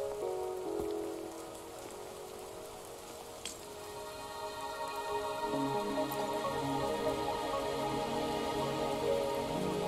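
Steady rain falls and patters on surfaces in a Wuthering Waves cutscene near Mt. Firmament, a soft continuous hiss with scattered drips that grows slightly fuller toward the end.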